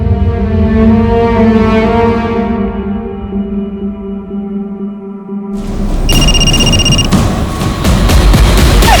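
A telephone rings loudly in a dramatic scene, a bright repeating electronic tone cutting in over a dense, heavy music bed and continuing to the end.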